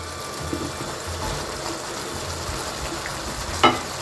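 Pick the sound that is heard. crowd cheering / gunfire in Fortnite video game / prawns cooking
prawns cooking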